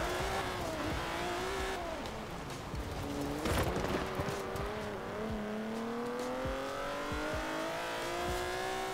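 A Cadillac XTS Limousine accelerates in Forza Horizon 4, its engine note climbing steadily through the gears with rising pitch and brief dips at shifts, loud and continuous with faint clicks in the background.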